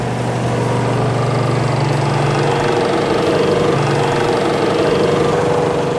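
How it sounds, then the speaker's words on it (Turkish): A sanding machine drones steadily at close range, grinding the outer surface of a katana blade, a mechanical grinding hum with a motor tone that wavers slightly throughout, no voices. "Dış yüzeyini zımparalıyoruz şu anda"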